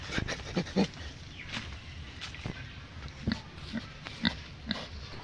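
A large pig in a village grunting and snorting in short irregular bursts at close range, fairly quiet, with brief background sounds between the grunts.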